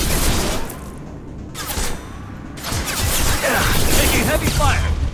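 Heavy gunfire in the Mass Effect 2 video game, rapid bursts and clattering shots with brief gaps between volleys, close and loud throughout about five seconds.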